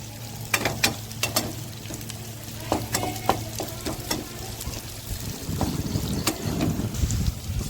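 Capsicum and onion fry in a hot pan for babycorn manchuria, a steady close sizzle punctuated by sharp clicks and scrapes of a spatula stirring against the pan.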